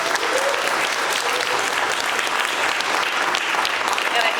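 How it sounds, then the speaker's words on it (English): Loud, dense audience applause fills a church hall during a candidate forum, steady and unbroken throughout. "Hold our applause, please"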